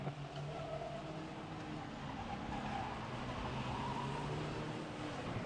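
Race cars driven by young drivers lapping a racetrack at Bovingdon Raceway, a faint, distant, continuous engine drone with no talk.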